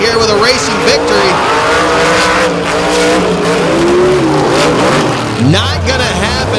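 Monster truck racing at a beach event, with a driver in the Warp Motorsports Toxic truck roaring continuously near and loud, engine revving and tires squealing as it lunges, under an announcer's commentary.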